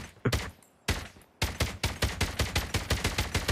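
Rapid automatic gunfire from an AK117 rifle in Call of Duty Mobile: a few scattered shots, a short gap, then a steady loud burst of evenly spaced rounds with no talk.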